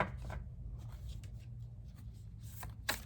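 Soft riffling and flicking of cards being shuffled, quiet and close, over a low background hum, with a sharper snap near the end.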